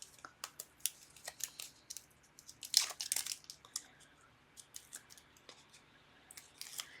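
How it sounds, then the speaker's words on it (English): Tape peeled off a handmade birthday card with 1/16 craft foam, giving a string of short crisp crinkling rips and snaps, close and quiet, with a louder tearing burst in the middle. "So let me pull the tape off."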